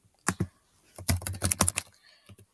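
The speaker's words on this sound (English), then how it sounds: "I'm just going to type in something random." Keys clack on a computer keyboard while entering a Roblox login, a couple of quick taps followed by a denser burst of rapid keystrokes and a few final presses, close and clear with no talking.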